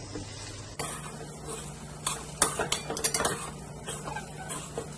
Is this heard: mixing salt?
yes